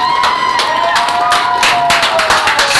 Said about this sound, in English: Clarke Central crowd excited about that one